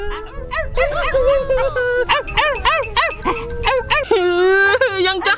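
A person imitates a dog, giving a rapid run of loud, close yelping barks and whimpers with no other voices.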